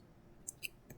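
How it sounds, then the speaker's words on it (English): A computer mouse clicks twice on an installer file, two quick sharp clicks close together and alone in a quiet room, with a faint third click just after. "Just double click on the application."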